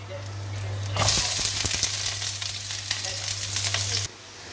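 Onion sizzles in a hot pan as cooking starts for tinolang manok, a sudden loud frying hiss that holds steady with stirring clinks for a few seconds, then drops away abruptly.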